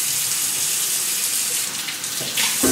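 Cold tap water runs steadily from a kitchen sink faucet onto couscous semolina to soak it, a continuous close hiss and splash with no voices.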